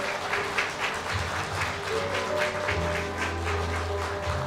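Party members at a convention applaud their leadership candidates in continuous rhythmic clapping, with a sustained low hum or music tone entering partway through and steady crowd noise underneath.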